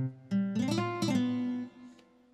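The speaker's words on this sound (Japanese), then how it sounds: "次の2つ目はギターです。" A single guitar tone from the InstaComposer virtual instrument, a clean plucked chord that rings for about a second and a half and then cuts off, heard alone.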